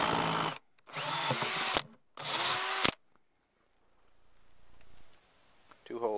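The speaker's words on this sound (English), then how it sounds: "We'll drill a couple of holes and see how it goes." Two loud whining bursts of a power drill with a hole saw cutting holes into a plastic bucket for a chicken waterer, separated by short pauses, then quiet hiss and rustling.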